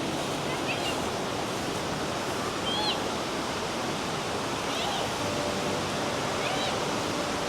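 Monsoon waterfall on a drive through Odisha, a steady broadband roar of heavy falling water filling the whole scene, dense and continuous, with faint birdsong chirps flickering above it.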